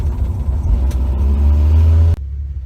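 A 1966 Ford Mustang with an inline six engine runs loud and close with a low, rumbling drone that swells slightly before cutting off abruptly near the end, leaving quiet background.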